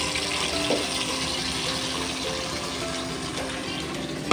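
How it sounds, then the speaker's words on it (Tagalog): Boiled mung beans tipped into a pan with onions for a monggo dish, giving a steady, close, wet pouring rush with faint sloshing and a small clatter at the end. "At lalagay ko na din po pala yung ating nilagang munggo."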